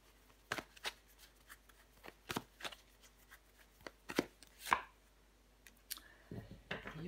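Tarot cards handled and laid down on a table, a scattered series of soft close flicks, slaps and rustles at irregular intervals, quiet and without talk.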